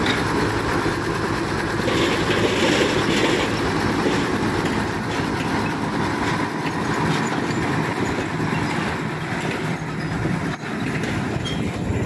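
A sugarcane train locomotive rolls past a rail crossing at night, a loud, continuous rumble and rattle of wagons and engine that holds steady throughout, close by and with no talk over it.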